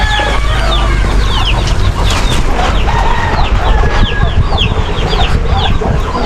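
Newly hatched ducklings peep in a dense, continuous chorus while being moved to a new home on a rural farm, calling close and loud over steady background rustling and noise.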